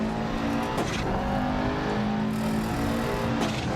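Rally car in Dirt Rally 2.0 on the Monte Carlo stage, engine droning steadily and strongly after a gear change, with brief shift blips and a constant loud mechanical hum throughout.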